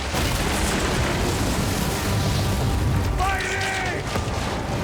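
Heavy artillery fire rumbles through a large battle in Assassin's Creed Origins, with deep booms and bursts layered into a constant thick din and faint shouting voices mixed in.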